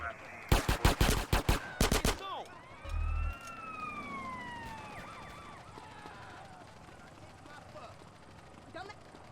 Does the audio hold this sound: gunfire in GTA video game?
yes